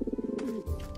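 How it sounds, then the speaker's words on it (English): Pigeons in The Purring Quest video game coo in a quick pulsing burst, followed by a low throaty coo and soft ambient game noise, fairly close with no speech over it. "Just mangy pigeons."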